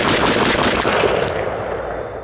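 Rapid full-auto burst from an AK-103 rifle firing 7.62x39 without a serious muzzle brake, a loud, dense string of cracks at close range lasting about a second, then fading echo.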